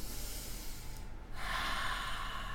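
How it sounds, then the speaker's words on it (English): A single deep breath drawn in through the nose during a calm, eyes-closed centering exercise, heard close and steady as a soft rushing inhale that swells partway through. "take a deep breath in"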